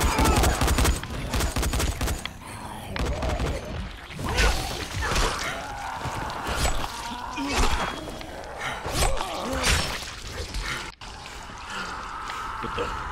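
Gunfire in the zombie game Dying Light comes as dense bursts of rapid shots mixed with other game noise and shouting voices, loud and fairly continuous throughout.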